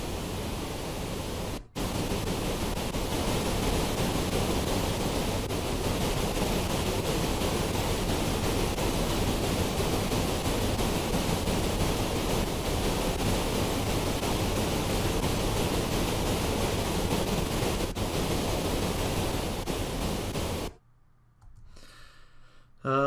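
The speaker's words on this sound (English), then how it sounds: "Let's go for pink noise." Steady, loud pink noise, a dense broadband hiss that runs unchanged for about twenty seconds before cutting off to near silence.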